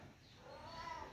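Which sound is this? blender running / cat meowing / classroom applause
cat meowing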